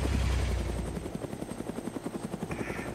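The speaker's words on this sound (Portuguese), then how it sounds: "Então bora subir no helicóptero." A helicopter in the video game Arma 2 spools up, its steady engine roar giving way to rapid rhythmic rotor thumping, loud and close with no talking.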